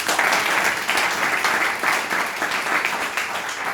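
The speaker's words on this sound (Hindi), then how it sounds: "एक बार जोरदार तालियां हो जाए उनके लिए।" Steady applause from a seminar audience, many hands clapping continuously at a moderate distance with no pauses.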